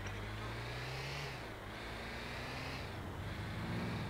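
A taxi in the video game GTA IV drives with a steady engine drone whose pitch climbs slowly as it accelerates, close and continuous throughout.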